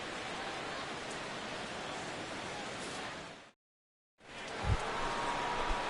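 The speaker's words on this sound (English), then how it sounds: "Jay Bruce steps in here to lead off the 6th as the rain continues to fall here" Steady hiss of rain falling on a ballpark in MLB The Show 16, a constant wash that cuts out briefly to silence and returns, with a couple of soft thuds near the end.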